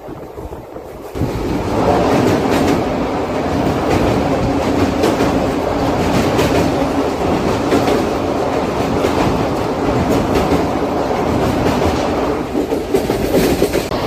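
The 12787 Nagarsol superfast express runs on its rails with a loud, continuous rumble and rhythmic clickety-clack that holds steady for the whole stretch, with no voices.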